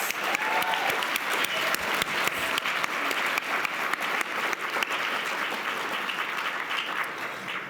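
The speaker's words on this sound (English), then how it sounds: "Please join me in giving another round of applause for that amazing performance from our School of Drama students." Applause from an audience fills the hall after a School of Drama student performance, a thick, even roar of many hands clapping that holds steady at full strength from start to finish.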